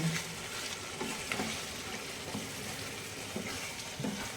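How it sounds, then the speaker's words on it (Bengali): Mutton for a thin goat-meat curry is stir-fried in oil in a pan, giving a loud, continuous close sizzle. Occasional scrapes and stirs break through the hiss. "এবারে আমি ভালো করে মটনটা কষে নেব"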